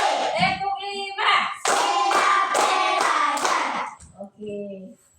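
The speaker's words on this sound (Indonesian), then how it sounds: "Tepuk 1. Tepuk 2. Tepuk 3. Tepuk 4." Children clapping together in a classroom, bursts of group claps in a counted rhythm that build to a fast unified patter, with a teacher's and kids' voices counting between the bursts.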